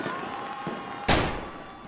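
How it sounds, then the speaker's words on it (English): A single sharp gunshot at a soldier in a sabotage video game, one loud thumping report partway through that decays over about a second against a busy game background, with no talk over it. "What I'm going to do is I'm going to shoot the soldier."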